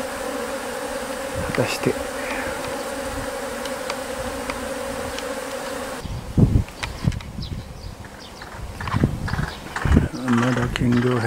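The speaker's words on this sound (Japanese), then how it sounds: "この金稜辺にたかっているミツバチが巣箱に入ってくれるといいんですが、" Honeybees swarm around a Cymbidium orchid outdoors in April, a dense, steady buzzing hum that fills the first half. It then fades behind closer thuds and handling noises while someone speaks briefly.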